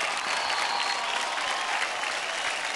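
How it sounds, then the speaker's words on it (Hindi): Steady, dense applause from a studio audience at a televised Mother's Day dance show episode, sustained and even throughout with a lively crowd wash, no voices over it. "जोरदार तालियां हो जाए इनके लिए"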